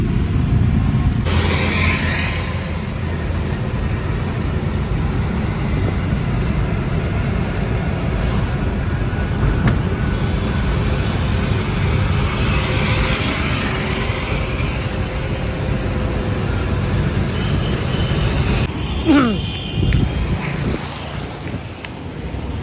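Continuous road and engine noise while riding in an auto rickshaw through traffic, steady and fairly loud with wind rumble on the microphone and a brief clatter near the end.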